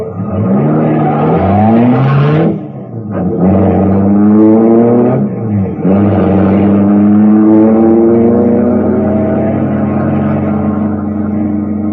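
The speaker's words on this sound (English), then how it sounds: "The motor turned over, and I got out of there as fast as the car could make it." A car engine turns over and revs hard, its pitch climbing in repeated rising sweeps as the vehicle speeds away. Loud and close, it is a dramatic effect with no voices.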